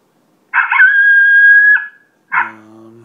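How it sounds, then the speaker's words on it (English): A Primos Turbo Dogg electronic predator call plays a challenge howl: a loud, close, drawn-out canine howl with a sharp yippy onset, followed after a short gap by a second yelping bark-howl that trails off. "challenge howl."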